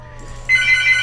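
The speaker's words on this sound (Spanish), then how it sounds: "Teléfono." A telephone rings suddenly and loudly, a steady electronic trill that cuts in and keeps going over a low background hum.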